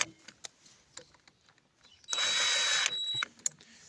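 Power drill driving a brake caliper screw on the front brake of a Honda Vision 110 moped, one loud steady whine lasting about a second amid small metallic clicks and handling noises.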